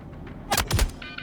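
A single sharp gunshot, a headshot test in Star Citizen, cracks loudly and briefly with a short burst of following reports, then a faint electronic chime trailing after.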